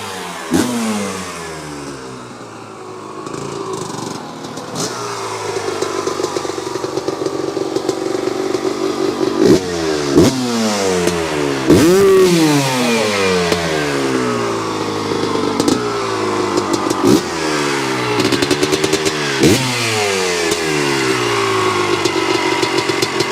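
A 1998 Honda CR250R two-stroke motorcycle engine with an aluminum chassis revs hard and repeatedly, each sharp blip rising and falling in quick succession, close and loud, with a brief idle near the start.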